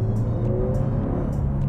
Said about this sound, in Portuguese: acho que é aquele escape que tem um ronquido suficiente para impressionar, mas para não chatear